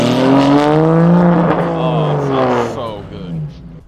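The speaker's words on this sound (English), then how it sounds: "I just want to hear his exhaust." Car exhaust note at a car meet, with an engine drone that rises and falls over about four seconds alongside a loud nearby voice talking.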